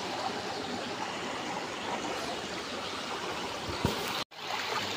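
A weakly flowing river gives a steady, close rushing wash of water that stays even throughout, cut off briefly near the end.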